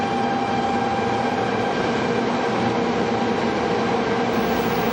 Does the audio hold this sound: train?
yes